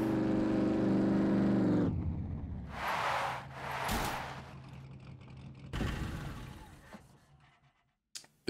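A vehicle, likely a tractor, driving in the survival video game Scum, heard as a loud steady engine drone that cuts off, followed by several rushing whooshes and a final short knock.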